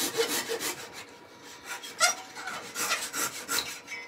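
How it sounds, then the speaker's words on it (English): Japanese pull saw cutting a small wood block for a party popper cannon turning project, rasping strokes repeating steadily, close and moderately loud, no talking. "A little B-block, a little Japanese pull saw."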